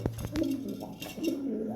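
Homer pigeons coo in a couple of low, rolling phrases at close range, with brief clatter at the start.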